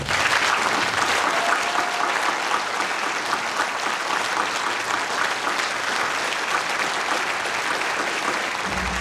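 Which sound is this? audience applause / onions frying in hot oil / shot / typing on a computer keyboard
audience applause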